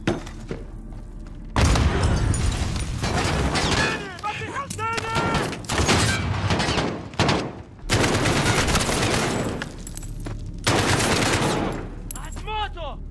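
Rapid bursts of Call of Duty: Modern Warfare video game gunfire rattle almost continuously, loud and close, with booms and mechanical clanks, while a voice speaks briefly underneath.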